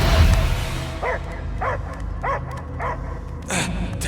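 A dog barks in the Guardians of the Galaxy video game: four evenly spaced barks, then a sharper yelp at the end, heard over a low rumbling ambient background.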